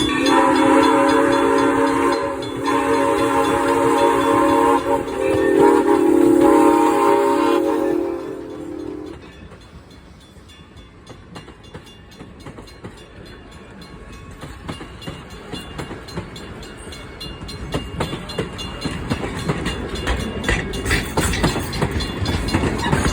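A Thomas the Tank Engine themed train sounds a long, loud horn, then rumbles and clatters past close by, its rolling noise building steadily toward the end.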